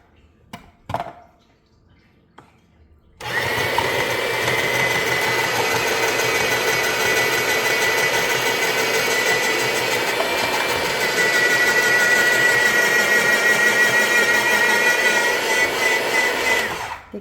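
A Salad Shooter electric slicer slices carrots with a loud, steady motor whir that starts abruptly after a few faint knocks and holds close and constant to the end.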